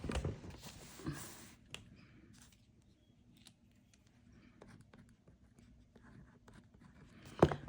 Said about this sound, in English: And we'll write it down.